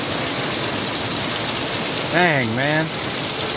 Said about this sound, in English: We have had more rain.